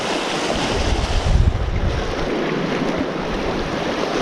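Choppy sea surf churns and splashes steadily around a bass angler, with gusting wind rumbling across the microphone throughout and a brief louder surge near the middle.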